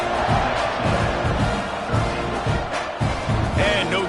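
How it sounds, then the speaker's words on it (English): A football stadium crowd at a Texas A&M versus Florida game roars steadily after a kickoff, a dense, far-off wall of cheering that runs the whole time under a commentator's voice. "this crowd is feeling themselves after that last drive"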